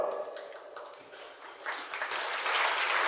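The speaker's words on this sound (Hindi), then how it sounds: "आप लोग ताली तो खूब बजाते हो" An audience at a religious discourse applauds in a steady wash of many clapping hands. The applause is moderately loud, dips slightly midway, then swells again toward the end.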